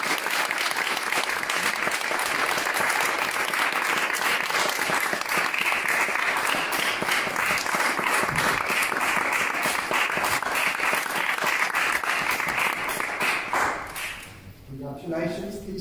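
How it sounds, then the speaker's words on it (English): Sustained, dense applause from a seated audience at a British citizenship awards ceremony in Essex, steady and loud for about thirteen seconds before tapering off, with a voice speaking briefly as it fades. "So round of applause, please."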